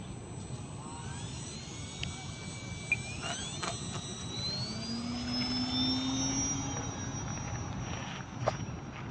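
An Eflite Valiant RC floatplane flies overhead, its high electric motor whine rising and shifting in pitch as it passes, steady and moderately distant over outdoor background noise.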